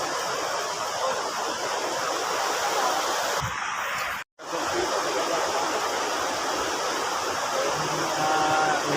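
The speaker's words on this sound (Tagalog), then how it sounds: "Hindi na natin mapuntahan doon dahil napakalakas ng baha, napakalakas ng daloy ng tubig." Floodwaters of the swollen Davao and Tamugan rivers rush in a steady, loud broadband roar, a continuous torrent with one brief dropout midway and no voices.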